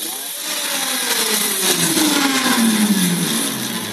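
An electric motor driven by a motor controller at full throttle during a stall test gives a loud, steady whine whose pitch slides slowly downward, with a rough mechanical buzz underneath.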